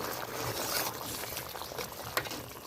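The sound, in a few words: potato kurma curry boiling in a pot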